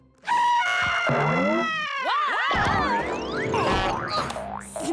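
The Scream Screen alarm in a children's cartoon blares a loud, cartoonish wail of swooping, bending tones with boing-like sweeps and scream-like cries, running for several seconds.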